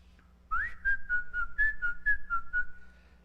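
Someone whistles a short, steady tune alone, about ten clear notes at an even pace, close and moderately loud in a quiet room.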